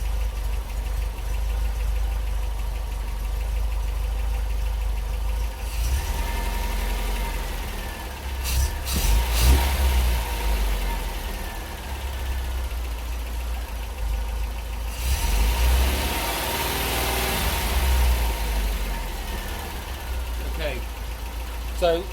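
MG BGT engine idling steadily during carburettor mixture adjustment, a continuous low rumble with slight rises in revs midway and near the end, fairly close.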